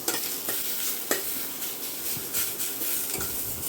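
A little oil gently frying with onion and curry leaves in a pan, a soft continuous sizzle broken by several spatula scrapes and stirs, close and without talk.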